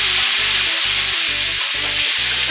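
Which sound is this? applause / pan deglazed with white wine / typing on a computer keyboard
pan deglazed with white wine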